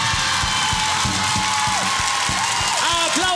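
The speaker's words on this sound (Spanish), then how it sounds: "¡Aplausos para las señoras y señoritas!" Studio audience on a televised game-night show clapping and cheering for the women contestants, a loud dense wash of applause with a pitch-gliding tone and rhythmic thumps running through it.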